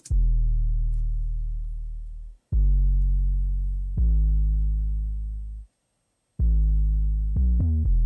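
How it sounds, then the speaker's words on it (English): Deep, booming 808 bass notes, long sustained hits separated by brief gaps, with a quick flurry of shorter notes near the end. "I had an 808 first, and that's just following the basic root note from the chord progression that I played."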